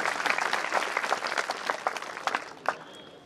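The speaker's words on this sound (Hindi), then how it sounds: "एक बार मनीष भैया के लिए जोरदार तालियां बजाने से" A crowd at an awards ceremony gives a burst of hearty applause for Manish, dense clapping that is strongest at first and then thins and fades over a few seconds.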